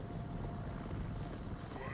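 A helicopter in the video game Arizona Sunshine 2 gives off a steady, dense rotor and engine rumble that fills the whole brief moment without a break.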